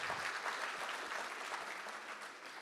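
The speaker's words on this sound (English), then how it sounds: "I think we should definitely clap for that." Audience applause at an evening conference session of the ASA, a steady dense wash of many hands clapping at moderate distance, sustained evenly without talk.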